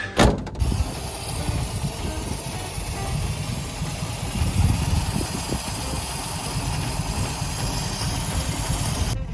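A 1952 Austin A40 Sports convertible engine idles cold and slightly low, a steady close mechanical chatter and rumble with faint ticking, heard alone without talk.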